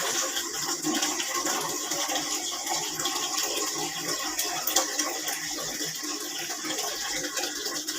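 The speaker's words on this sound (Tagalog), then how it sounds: "Lagyan tayo ng sabaw, tubig sa ating kaldero." Water poured into a cooking pot for soup broth, a close, steady gushing splash that burbles and fluctuates slightly over several seconds, with no voices.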